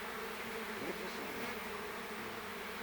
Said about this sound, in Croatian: Evo je 3 pčela na mojoj ruci